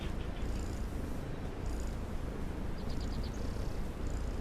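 A house cat purrs steadily and softly, a continuous low rumbling drone close by, with faint high chirps in the background.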